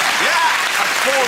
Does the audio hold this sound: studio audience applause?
yes